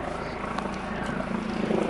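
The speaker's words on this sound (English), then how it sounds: "This helicopter been there for a while." A helicopter hovering over a churchyard gives a steady, moderately loud rotor drone that fills the whole short moment without a break.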